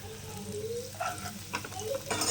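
Sliced onions fry in a pan for a quail pepper fry, making a moderate steady sizzle with short bursts of stirring and a faint hum underneath.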